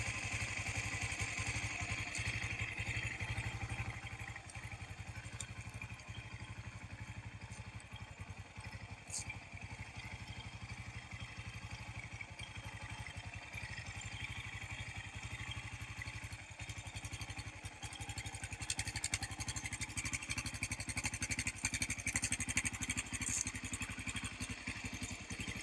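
A rebuilt Yamaha-style 660 Raptor quad engine idles steadily and fairly close, a low throbbing drone with faint clatter that rises slightly in loudness toward the end, with no talking.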